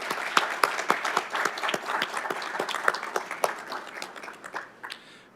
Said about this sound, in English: I'd like to give everybody a round of applause.